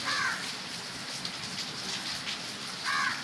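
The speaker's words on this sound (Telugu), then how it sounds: "చూడండి కాకులు వర్షానికి ఎలా తడుస్తూ ఉన్నాయి" Steady rain pours down, a continuous hiss of drops on surfaces, with brief crow calls at the start and end.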